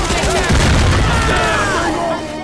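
Dense bursts of gunfire fill a Left 4 Dead 2 zombie-shooter match, loud and continuous with heavy low booms, easing off near the end while a player's voice calls out over the shots.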